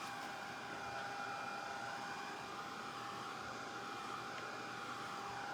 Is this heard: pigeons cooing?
no